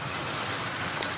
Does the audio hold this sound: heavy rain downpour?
yes